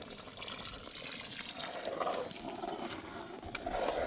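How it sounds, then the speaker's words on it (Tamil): Coconut milk is poured into a simmering fish curry, a steady close gurgling pour and liquid splash that runs without a break. "இப்போ தேங்காய் பால் ஊற்றிக்க போகிறோங்க"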